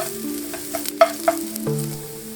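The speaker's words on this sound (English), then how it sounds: "And the red pepper flakes, and saute to bring out the flavor of the ginger and the garlic." Ginger, garlic and red pepper flakes sauté in a pan for Mongolian beef, a short close sizzle with a few stirring scrapes and taps over a low steady hum.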